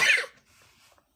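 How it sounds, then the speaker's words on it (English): A woman lets out a single short, sharp cough up close, a lingering cough from a recent cold, followed by quiet. "2 weeks past my Egypt retreat and I still cough"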